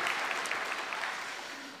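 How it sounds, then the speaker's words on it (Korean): A church congregation at a Sunday worship service claps in thanks, a soft, somewhat distant patter of applause that gradually tapers off toward the end. "우리 옆에 있는 모든 분들에게 감사의 박수를 드리겠습니다."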